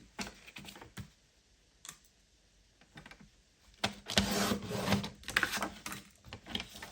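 Paper is cut for a scrapbooking mini album, with a few soft scrapes and then a longer close, rasping cut. The sounds are moderately loud, nearby and without speech.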